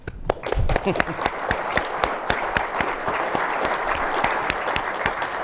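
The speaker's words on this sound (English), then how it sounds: "if you'll join me in giving our guest a warm applause for his welcome" Guest speaker welcomed by an audience at a think-tank book talk with a burst of lively applause, sharp individual claps standing out at first before settling into a sustained, even patter.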